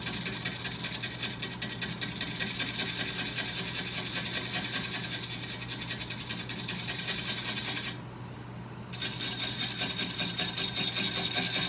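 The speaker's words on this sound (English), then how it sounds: "Try a little bigger gouge here." A larger carving gouge cuts into wood with a continuous rasping, scraping texture. It is steady and close, with one brief pause partway through and no talk.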